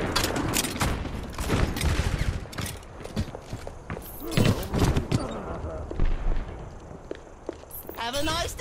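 Sniper gunfire in a video game: a rapid string of sharp cracks and thuds amid busy game effects, with voices speaking throughout.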